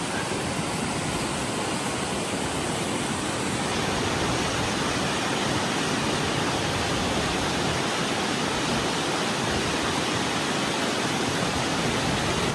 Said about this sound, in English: Oh, the moss, the way the water works through the rocks.